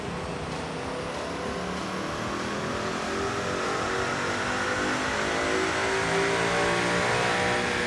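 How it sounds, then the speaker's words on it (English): A manual 2015 Mustang GT V8 running on a dyno. One long, loud pull climbs steadily in pitch as the engine revs up under load, continuous and close, with no voices. "Now let's spin our car on the dyno and we can talk numbers."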